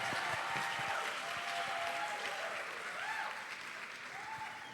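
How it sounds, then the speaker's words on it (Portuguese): Audience applause welcomes a pastor at a Baptist church conference, a dense, steady wash of clapping that fills the room throughout, tapering slightly toward the end with faint whoops and voices riding over it. "Recebam com muito carinho e aplauso nosso amigo"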